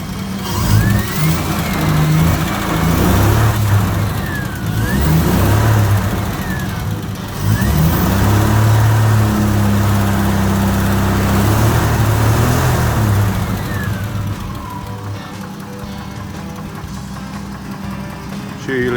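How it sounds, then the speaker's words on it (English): A car engine revs repeatedly, rising and falling in pitch over a steady mid-range rumble, close and loud throughout with brief eases between pushes on the throttle. "Let's see if we can just rev him up a bit."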